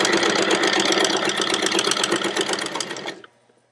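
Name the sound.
sewing machine sewing a straight line on fabric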